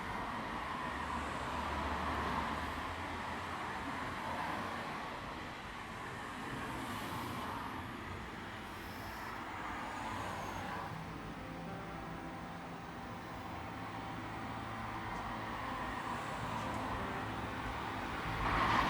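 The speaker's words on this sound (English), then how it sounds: "all I can hear is the wind and the hum of distant cars" Steady low rumble of traffic from far off, a continuous hum with no distinct vehicles passing, under faint broadband wind-like noise.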